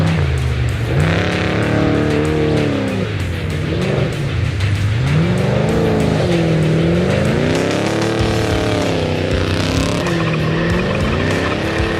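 An off-road race vehicle accelerates hard during the Vegas to Reno desert race, its engine note loud and close, pitch sweeping up and down through gear changes, with no pause across the stretch.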